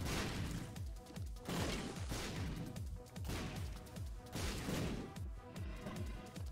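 Diamond shots fire and explode in The Binding of Isaac: Repentance as a rapid, rhythmic stream of punchy bursts with descending thuds, fairly quiet and repeating throughout without pause.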